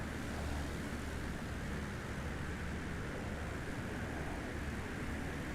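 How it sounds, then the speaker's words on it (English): A jet passing low in the Eglinton to Inverness region of a flight simulator game, a steady broadband engine roar with a low rumble that holds at constant loudness throughout. "There's a jet moving down there, I think."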